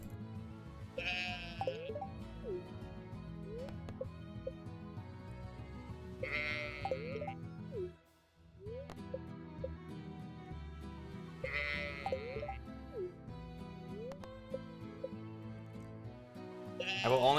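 Sheep in the Stardew Valley farming game bleat in repeated bursts roughly every few seconds over a steady, busy layer of in-game music and ambience.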